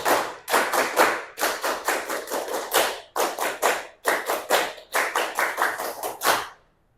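Junior high school students in an Indonesian classroom perform a rhythmic spirit clap, sharp group claps in tight repeated patterns of quick bursts separated by brief pauses, loud and close, with no talking over them.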